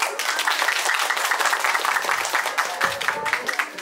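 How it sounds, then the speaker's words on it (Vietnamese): Warm, loud applause for the groom's family representative at a 2023 wedding ceremony in Tiền Hải, Thái Bình: dense, steady clapping from a crowd that fills the room without a break. "xin được trân trọng cảm ơn rất nhiều những tràng pháo tay thật lớn, thật nồng nhiệt"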